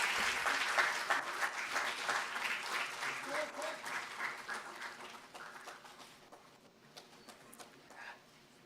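Applause at an intellectual property conference as souvenirs are presented on stage, crisp clapping that is strongest at first and gradually thins and fades over several seconds.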